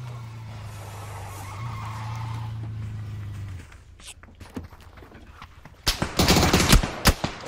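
Gunfire in a PUBG-style battle royale shooter: a steady low engine-like hum gives way to scattered sharp shots, then a dense burst of rapid, loud reports near the end.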